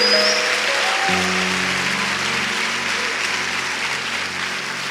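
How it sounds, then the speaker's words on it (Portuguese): A church congregation applauds in a dense, steady roar of clapping that fills the whole stretch, with low sustained musical tones humming underneath. "Pode aplaudir a Jesus por isso, pode aplaudir a Ele."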